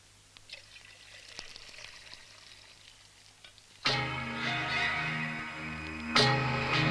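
Tea is poured into cups, a sudden loud splashing pour starting partway through, with a second burst near the end after a quieter stretch of background noise, no one speaking.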